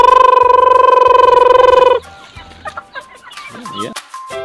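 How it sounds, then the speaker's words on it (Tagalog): Free-range backyard chickens and chicks respond to a call: a loud, steady, pulsing calling tone for about two seconds, then scattered nearby clucks and chick peeps. "Subukan kong tawagin mga katikin ng manok."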